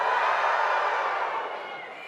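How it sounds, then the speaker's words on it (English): A graduation crowd in a large hall roars and whoops with excitement, a dense, sustained wash of cheering voices that slowly fades. "that large woo-hoo of excitement"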